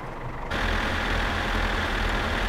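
A slow tractor in the video game My Summer Car runs with a steady, low, rumbling drone from its engine, constant and close with no variation, and no one talking over it.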